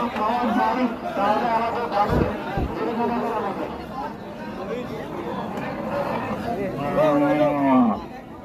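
A buffalo lows at a busy cattle market, its deep moos rising now and then over a steady hubbub of people talking nearby.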